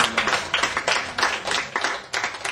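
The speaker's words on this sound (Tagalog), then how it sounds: "Palakpakan po Palakpak natin." A group at a Bible study gathering in Pulilan, Bulacan, Philippines claps together in a quick, steady rhythm, loud and close, with no talking over it.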